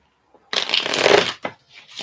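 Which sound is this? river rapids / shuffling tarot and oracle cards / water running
shuffling tarot and oracle cards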